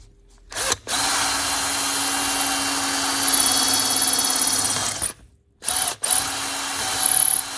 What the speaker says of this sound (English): I need to drill slightly more